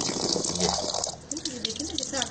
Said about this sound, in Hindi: अब ये पानी साफ निकल रहा है